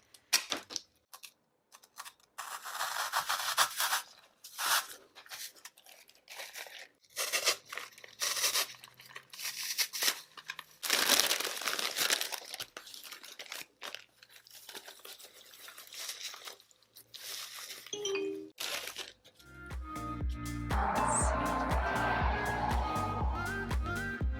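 Artificial Dollar Tree flower stems being cut and handled, with a run of irregular snips, crinkly rustles and clicks in bursts, ending in a steadier tonal background; no voice.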